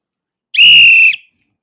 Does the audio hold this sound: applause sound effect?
no